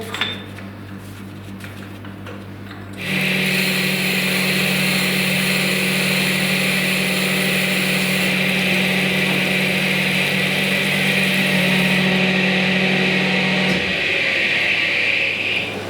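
A Schaudt AR1500 grinding machine dresses its grinding wheel, starting with a low hum and then rising after about three seconds to a loud, steady whine that holds evenly before dropping back near the end.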